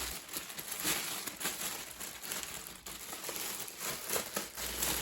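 Plastic bag wrapping crinkles steadily and close as an airsoft rifle is unpacked, giving a continuous rustle with small crackles and no voices.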